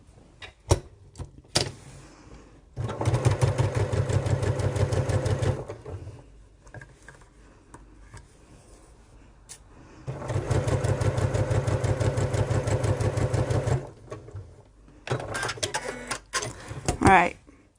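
A domestic sewing machine stitches fabric diagonally from corner to corner while making a tool wallet bag, running in two steady mechanical bursts of about three seconds each, separated by quieter handling and brief talk.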